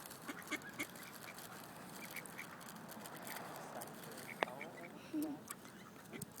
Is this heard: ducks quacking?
yes